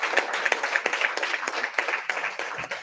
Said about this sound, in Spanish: Entonces vamos a darle un gran aplauso a todos los padres de la nación,